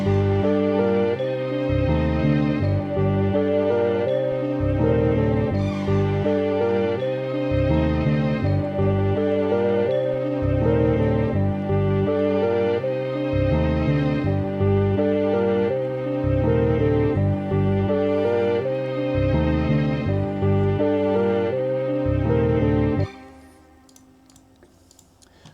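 Vintage-style music sample built with a percussion loop and added textures: a steady looping beat and layered melodic tones play throughout at moderate level, then cut off abruptly near the end.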